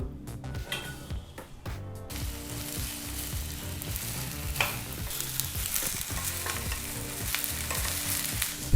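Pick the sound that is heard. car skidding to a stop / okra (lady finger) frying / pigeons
okra (lady finger) frying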